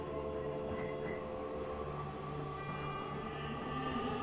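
A train rolling along the rails, a steady low rumble and hiss heard from inside, faint and continuous with no clear clacks.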